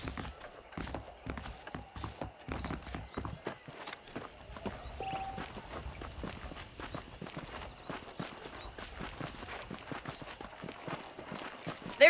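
Horse hooves clip-clop steadily in Red Dead Redemption, a continuous walking rhythm of close, moderately loud hoofbeats carrying through the whole stretch with light background ambience.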